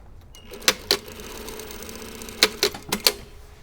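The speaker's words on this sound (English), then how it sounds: "I'm going to sew the shoulder seams of this together." A sewing machine stitches the shoulder seams of a bodice in short bursts, two quick runs early and a cluster of four near the end, each a sharp mechanical rattle over a quiet room hum.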